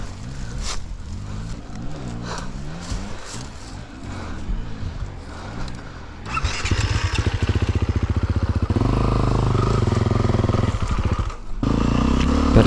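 A four-stroke dirt motorcycle climbing a mountain enduro trail on Red Bull Romaniacs routes, engine revving and bogging with uneven throttle, then a harder, louder sustained run with rattling chassis clatter near the microphone.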